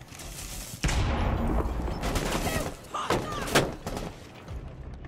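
Gunfire in Rainbow Six Siege, a burst of loud shots and booming impacts in quick succession, with heavier blasts toward the middle and a voice speaking briefly over it.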